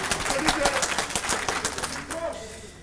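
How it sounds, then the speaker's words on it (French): An audience applauding at a business forum, a burst of brisk clapping with some speech mixed in, tapering off after about two seconds. "Est-ce qu'on peut applaudir ce monsieur, s'il vous plaît?"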